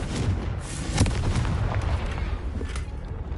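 A Confringo blasting spell goes off in Hogwarts Legacy, a dense booming explosion with a sharp burst near the one-second mark and a rumbling, crackling tail that stays loud for the full stretch.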